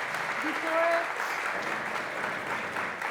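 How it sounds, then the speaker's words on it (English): An audience applauds speakers at a Nobel dialogue event on the role of the university, a steady broad wash of clapping lasting throughout, with a brief voice or tone near the start. "So please, an applause."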